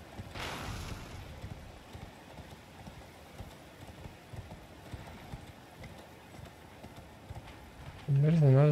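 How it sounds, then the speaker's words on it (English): Horse hooves clip-clop steadily while riding across open ground in Elden Ring, a rhythmic mid-level patter under ambient game sound, ending with a louder burst of game audio. "We'll probably have to use a horse."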